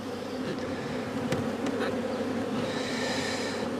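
Honey bees buzz steadily around an open hive box, a dense, continuous hum close by with a few individual bees flying past, and no voices.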